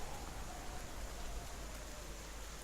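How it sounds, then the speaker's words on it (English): Heavy rain pouring down in monsoon-like fashion, a dense, even hiss of constant drops that stays uniform throughout, faint and distant, with no voices. "now the rain has started tipping it down. This is like half monsoon style"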